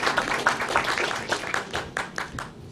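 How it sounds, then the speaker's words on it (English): Clapping from a conference audience at a business angel network congress greeting a presenter, brief and uneven with distinct individual claps, moderately loud and close. "Give her an applause."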